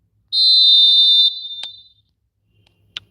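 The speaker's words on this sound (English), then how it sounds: "There's the whistle, and here we go." A referee's whistle blows at kick-off in an eFootball match, one long shrill close blast that tails off, followed by a couple of short faint chirps.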